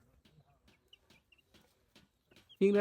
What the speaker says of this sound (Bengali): এটা হচ্ছে কক মুরগি